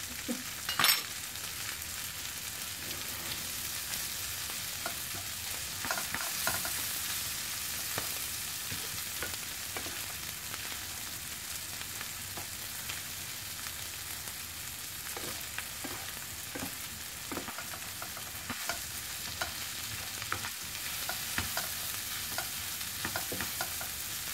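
Bitter gourd and eggs stir-fry in a hot pan, a continuous sizzle overlaid with repeated scraping and clacking of a spatula at an uneven rhythm, with no voices.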